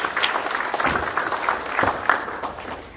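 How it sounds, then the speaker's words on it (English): Audience at a TVET principals and industry partners meeting claps for the Nairobi region delegates, a short burst of moderate, scattered applause with uneven individual claps. "and we clap for them"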